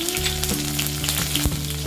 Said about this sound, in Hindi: कढ़ाई में डालेंगे 1 टेबलस्पून ऑयल। तेल गरम हो गया। अब हम इसमें डालेंगे 1 टीस्पून जीरा